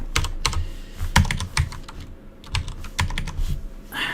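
Someone types on a computer keyboard with irregular bursts of sharp, close keystroke clicks and short pauses, and no voices.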